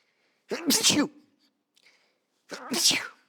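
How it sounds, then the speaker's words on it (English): Two sharp sneezes in quick succession, close and loud, separated by a short pause with a faint breath between them. "Double sneeze for good luck."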